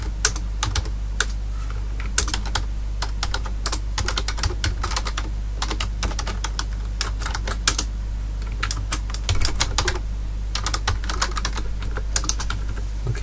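Java code being typed on a computer keyboard: rapid, irregular key clicks in close, bright bursts with short pauses between runs, loud and near, with no voices.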